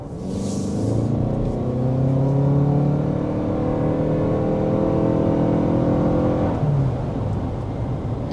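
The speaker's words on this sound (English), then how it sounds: "There's an acceleration with the sport mode to give you a demonstration about that" A 2026 Toyota RAV4 accelerates in sport mode, the engine note rising smoothly for several seconds as road rumble builds, then the pitch drops at a shift before climbing again, heard from inside the cabin without talk.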